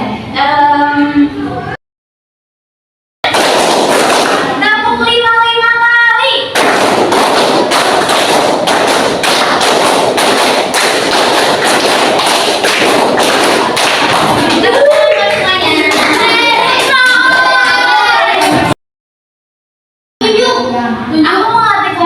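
A class of students in a madrasah classroom claps rapidly and continuously in dense, loud bursts, with voices calling out between the claps.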